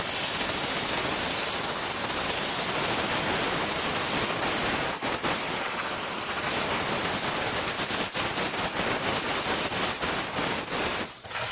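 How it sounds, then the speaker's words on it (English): A steam cleaner runs over the inside of a car window in a loud, steady hiss that holds nearly unbroken throughout, with a few faint clicks and a brief dip at the very end. "I'm gonna use my steamer to go over the area, particularly the area where I see a lot of smudges."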